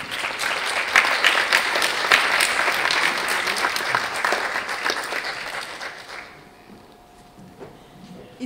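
An audience at a youth-empowerment talk claps loudly and continuously for about six seconds, the dense applause then thinning out into a quiet room with a few scattered claps.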